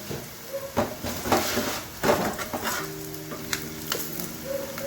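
Onions frying in a pan as the base for Punjabi saag, with steady sizzling, clinks and stirring scrapes from a spoon, plus a brief cupboard-like thud, heard close up with no talking.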